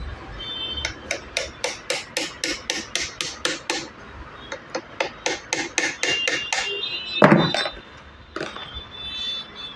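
A hook is hammered into place on a Piko sewing machine: a long run of quick, sharp metallic taps close up, a brief pause, then more taps and a scraping rub near the end.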